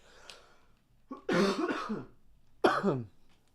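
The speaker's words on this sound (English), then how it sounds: "first cough of the stream" A few harsh, close coughs from a person who is ill: a quick lead-in, a longer rasping bout, then one more cough, over a faint background hum.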